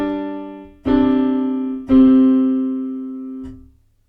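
A sustained harmonic interval in which a suspended D held over a C bass resolves downward, played as three separate sustained attacks of clear, steady pitched tones with no talking.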